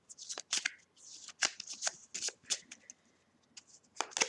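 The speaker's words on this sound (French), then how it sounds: "Alors, je vais étaler les cartes." Oracle cards are shuffled and spread out, making a quick series of crisp, papery flicks and slides, close and fairly quiet, with irregular bursts and brief pauses.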